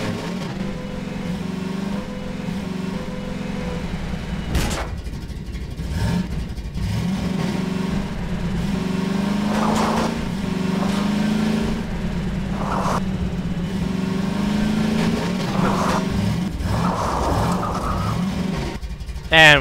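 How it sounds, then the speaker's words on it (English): A vehicle drives in Half-Life 2, its engine droning steadily and revving for the whole stretch, with occasional thumps and knocks over the top and no talking. "This is why I hate driving in this game."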